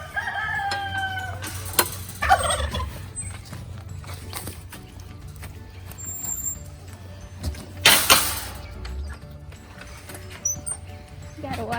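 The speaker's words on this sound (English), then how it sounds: "Oh, there's some eggs and some chickens." Chickens and a rooster on a farm with ducks and turkeys nearby, heard as distant crowing and clucking under steady low background noise, with occasional louder bursts and a voice speaking at times.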